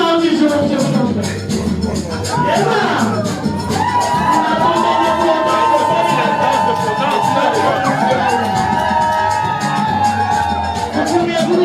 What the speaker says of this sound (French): je vous prie d'acclamer Alain et Jacqueline Stéphanie